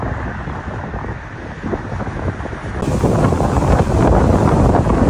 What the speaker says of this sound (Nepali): हावा चर्यो सर